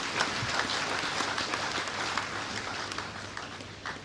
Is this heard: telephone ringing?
no